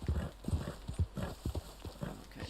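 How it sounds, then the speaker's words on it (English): Horse hooves clip-clop at a gallop in the video game Red Dead Online, a steady rhythmic pounding close by with a brief whinny, no talk over it. "Come on, horse, go"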